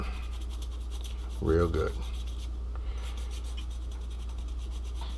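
A cloth scrubs dye off a wooden tomahawk with steady, close rasping and rubbing strokes. Someone briefly speaks partway through.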